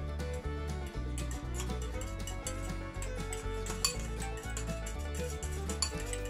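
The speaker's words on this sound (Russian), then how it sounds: "Теперь это можно вилочкой все перемешать" A fork mixes salted eggplant and pepper in a dish, giving light, repeated clinks and scrapes against a steady musical backdrop.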